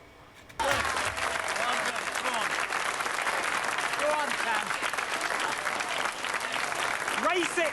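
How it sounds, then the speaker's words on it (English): MPs in the House of Commons break into sudden clapping that starts sharply and carries on steadily, loud and dense, with a few voices calling out underneath. "it is parliamentary procedure not to clap in Parliament. They're doing it because it's virtue"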